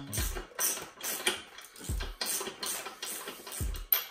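A ratchet wrench clicks in repeated bursts of rapid pawl ticks while a 10 mm nut is tightened on a Derbi moped frame, with short pauses between strokes, close and fairly quiet.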